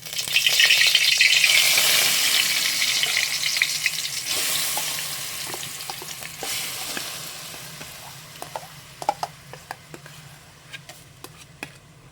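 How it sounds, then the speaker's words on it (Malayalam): Jackfruit paste and sago fry in ghee with a loud, steady sizzle that fades gradually, joined later by sharp clicks of a spoon against the pan. "ഇനി ഇത് രണ്ടും കൂടി നെയ്യിൽ കിടന്ന് നന്നായിട്ടൊന്ന് വരണ്ട് വരണേ"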